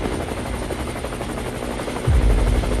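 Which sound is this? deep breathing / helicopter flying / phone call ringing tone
helicopter flying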